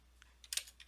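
Several quick, light keystrokes on a computer keyboard tap in an irregular burst, close and quiet against a silent room.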